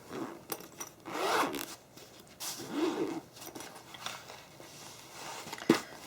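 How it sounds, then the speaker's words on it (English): A zipper is pulled open on a standing watercolour plein air kit case, a close, rasping zip in several drawn-out strokes with short pauses and a small clunk near the end. "I'm just going to unzip it again."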